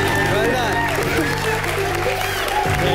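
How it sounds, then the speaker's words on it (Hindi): Studio audience applause on a Hindi comedy show stage, steady clapping under loud music and a voice throughout, sustained for the whole stretch before a brief dip near the end. "जोरदार ताली हो जाए"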